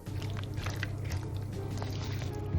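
Wet, squelchy stirring of thick creamy Cajun chicken pasta, soft sticky squishes and slurps repeating close up with no voices.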